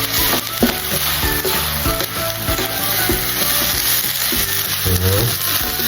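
Lumpia Semarang filling cooks in a pan, a loud, dense sizzle with repeated rhythmic scraping strokes of a spatula throughout, close and unbroken by speech.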